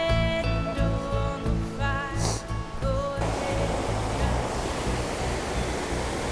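River in the Pacific Northwest during a spring hike, a steady broadband rush of flowing water that becomes dominant and continuous after some tonal background sound fades out.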